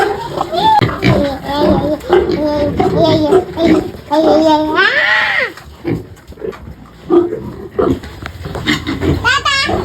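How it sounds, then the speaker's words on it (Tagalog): Piglets squeal loudly and repeatedly as they are moved, high shrill cries overlapping with people talking nearby. "tapos na po tayo maglipat ng ating mga biik"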